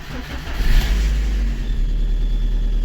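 A VAZ 2112 16-valve car engine, after a cylinder head gasket replacement, turns over and catches, rising briefly in a rev before settling into a steady running rumble, close and fairly loud with no talking.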